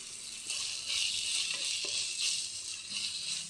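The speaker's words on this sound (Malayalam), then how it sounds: "രസപ്പൊടി ഇട്ട് നമ്മളൊന്ന് ജസ്റ്റ് ഒന്ന് വഴറ്റി" Rasam powder sautéing in a pan makes a faint, continuous hiss of frying with a few small scraping stirs. No voice is heard.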